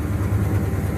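The car's engine idles with a steady, loud low-pitched rumble right after its ignition box and resistor were replaced.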